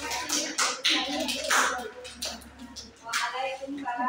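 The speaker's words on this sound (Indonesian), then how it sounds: "tepuk tangannya buat kelompok" A group claps for a class group's performance, giving a dense, uneven patter of hand claps at moderate distance that swells and fades over several seconds, with faint voices mixed in.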